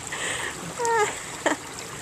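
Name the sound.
water flowing over a newly built waterfall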